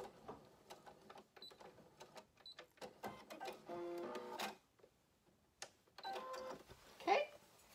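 A sewing machine stitches a cotton gaiter in short, faint bursts of rapid clicking whir with pauses between, ending in a brief back stitch and a louder clack.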